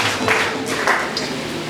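A church congregation claps together at a New Year's Eve service, a loud, close wash of applause with slight swells, continuing throughout the short stretch.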